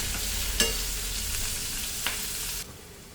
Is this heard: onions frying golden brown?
yes